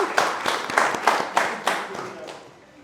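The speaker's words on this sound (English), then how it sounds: "I want a round of applause for Assassin" An audience at a photography workshop in Kaduna gives a short round of applause, the claps landing in a fairly steady, loose rhythm at close range before thinning out and fading at the end.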